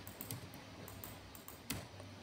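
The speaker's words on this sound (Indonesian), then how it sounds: "kemudian tekan tombol tab pada keyboard" Several quick keypresses on a computer keyboard, pressing Tab, give sharp isolated clicks at a loose uneven pace, close and fairly quiet over faint room hiss.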